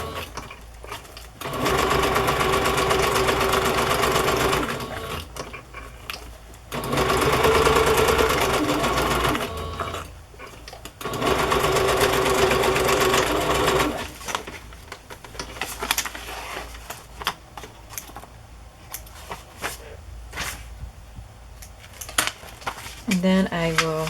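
Sewing machine running straight stitching on a fabric journal page, several bursts of steady whirring separated by quiet pauses, with small handling clatter between runs and occasional talk.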